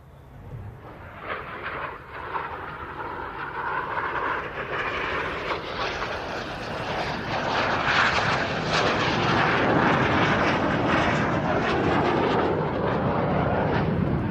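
Red Arrows jets flying a synchro double roll at an airshow, a loud continuous jet engine roar that swells and stays heavy and broad for the whole stretch, with no talk over it.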